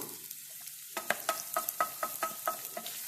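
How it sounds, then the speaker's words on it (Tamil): Oil sizzles steadily in a pan as dried red chillies and curry leaves fry, while a utensil scrapes and stirs in a regular rhythm, close by, with no talking. "சிவப்பு மிளகாயும் கருவேப்பிலையும் உள்ளே போட்டு நல்லா அதை பொரிய விடணும்"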